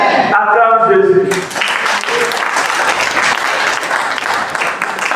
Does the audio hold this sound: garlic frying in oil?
no